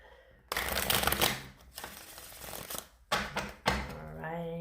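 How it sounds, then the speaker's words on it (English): Close, brisk tarot card shuffling in several rustling bursts, with a voice talking over part of it. "I'm just shuffling them for video purposes."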